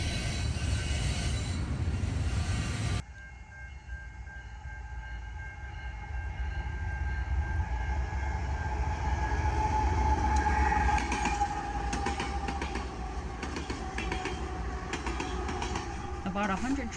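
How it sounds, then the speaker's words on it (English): A train rumbles past nearby in Illinois with a steady roar, rattling cars and some metallic squeals and clicks building midway. "See, that train has to wait for this other train to pass."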